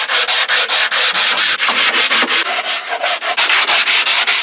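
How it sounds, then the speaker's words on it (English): Hand sanding of wood on a homestead chicken coop, a steady rhythm of loud, close back-and-forth rasping strokes with short pauses between them and no talking. "So back to sanding"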